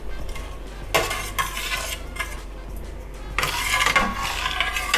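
Utensil scraping and clinking against a pan as a pork chop and rice mixture is stirred, with several louder scrapes over a steady low hum and faint background sizzle.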